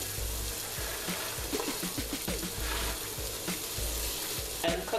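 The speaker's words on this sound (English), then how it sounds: "And cook this down until your onions become a little soft." Onion, scallion and garlic frying in a pan, a steady dense sizzle with intermittent scraping and stirring strokes, close and continuous without any talk.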